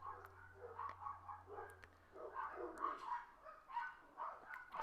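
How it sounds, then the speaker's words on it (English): Dogs bark nearby in repeated short bursts that come and go across the whole stretch, fairly faint and somewhat distant, with no one talking over them. "Someone's dogs, I don't know."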